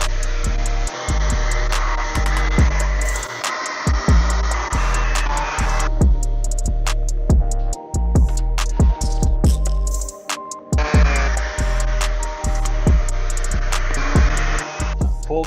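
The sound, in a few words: power sanding machines and vacuum cleaners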